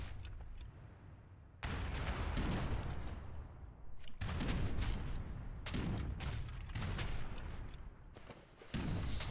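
Cannons on docks in Age of Empires III fire in repeated heavy booms, each blast rolling into a rumbling tail, spaced a couple of seconds apart at a fairly distant, moderate level.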